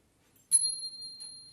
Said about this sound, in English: Bell, B-E-L-L, bell.